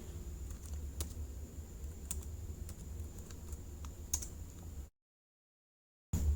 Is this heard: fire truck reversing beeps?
no